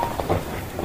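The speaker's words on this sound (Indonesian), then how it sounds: "Anak ger teh hujanna gedean." Heavy rain in a Sundanese audio drama, a brief, steady wash of dense downpour hiss, close and even, with no voices.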